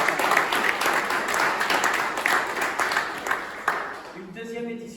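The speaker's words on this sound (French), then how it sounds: "je vous propose d'applaudir tous les bénévoles de l'association" An audience at the opening of the second Saint-André book fair applauds the association's volunteers with full, sustained clapping that tapers toward the end as a voice begins speaking over it.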